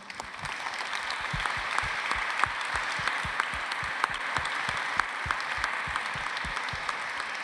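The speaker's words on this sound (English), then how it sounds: "please join me for a round of applause for them and for their accomplishments" A closing-ceremony audience gives a sustained round of applause for Scale Up program projects, with distinct individual claps standing out against a steady wash of clapping from the crowd.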